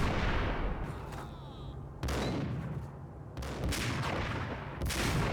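Sniper rifle shots in the video game Max Payne: a few sharp, loud reports spaced about a second or two apart, each with a rumbling tail, over dense game background noise.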